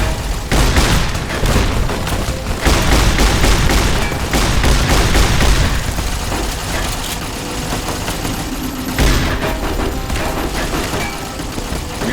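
Riot shotgun gunfire in Fallout: New Vegas, a rapid series of loud booming shots in bursts, dense and close, with no talking.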